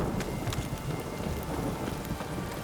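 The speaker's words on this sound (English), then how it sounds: "This downpour's a bastard" Steady heavy downpour in The Witcher 3, a dense continuous wash of rain with low rumbling undertones, like a thunderstorm, holding level throughout with no talk.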